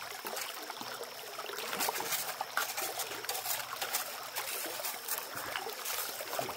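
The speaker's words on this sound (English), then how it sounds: "Add some more water here." Water being added to a gold sluice running pay gravel, a continuous close trickling and splashing flow with irregular sloshes and no talking.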